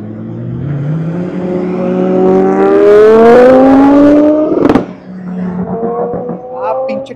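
A car engine revs hard as it accelerates along a city street, rising in pitch through the gears with a loud close roar, then a sharp crackle and quieter revving, with someone talking.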